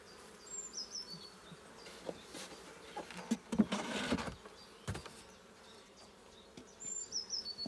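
Honeybees hum around an open hive during a routine spring inspection, a soft steady buzz with a few louder passes of bees flying close, plus occasional faint bird calls and handling noises.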